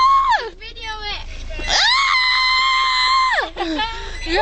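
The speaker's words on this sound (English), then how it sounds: "You have such an obnoxious scream, you know?" A girl lets out long, high-pitched screams inside a car in a car wash, loud and close, broken by short gasps between them.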